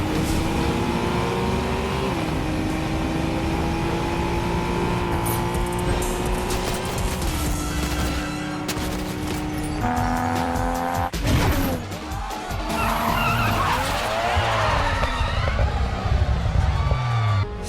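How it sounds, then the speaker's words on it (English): A car engine in Fortnite revs loudly through rising gear shifts, with tire squeals and skids near the end, roaring close and continuous throughout. "The engine sound is a bit lower pitched than how it sounds in the movie"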